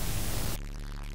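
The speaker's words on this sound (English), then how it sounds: "So while we may automatically think of distortion sounding like this," A loud burst of harsh static distortion, dense hissing noise that cuts off abruptly after about half a second, leaving a quieter low hum with fainter residual noise.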